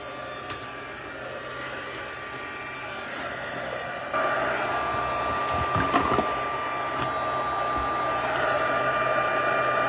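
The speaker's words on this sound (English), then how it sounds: "now we heat them to melt them" A heat tool blows steadily while melting embossing powder on a monochrome impressions card, a constant loud whirring hiss with a brief tonal whine and no talk.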